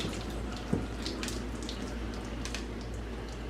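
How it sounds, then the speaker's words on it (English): Water drains steadily from a pot of cooked green beans into a sink, a continuous close hiss and splash with one brief clunk near the start. "We let all the water come out."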